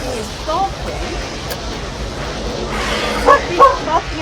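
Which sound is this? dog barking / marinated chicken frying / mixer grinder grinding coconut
dog barking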